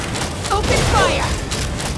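Gunfire in the video game Genshin Impact, a dense burst of shots and mechanical clatter over a busy, continuous game soundscape, with a brief voice line mixed in.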